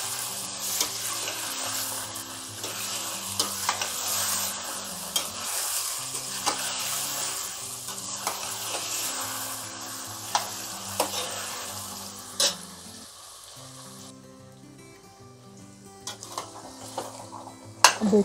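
Garlic ginger paste sizzling and frying in a pan while being stirred for chicken korma, with steady crackling sizzle, scraping spoon strokes and occasional clinks of the pot throughout, no talking.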